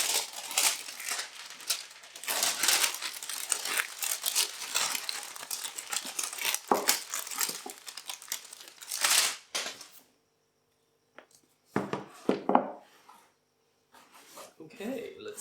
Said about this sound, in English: hear the snap of that heat wrapped plastic